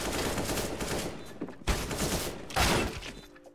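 Gunfire in the video game CS:GO, rapid bursts of shots crackling in dense clusters with sharp separate cracks between them, loud and close, with no talk over it.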